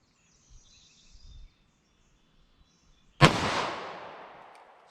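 A single sharp 9mm +P gunshot cracks from a short-barrel handgun at an outdoor range, loud and close, with a long fading echo after it and faint birdsong earlier on.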